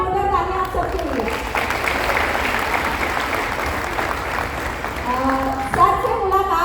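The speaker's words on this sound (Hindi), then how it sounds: "तो एक बार जोरदार तालियां आप सबके लिए।" An indoor audience at a Modicare team event at Treat Resort, Silvassa, bursts into loud, sustained applause; a voice talks at the start and again as the clapping fades.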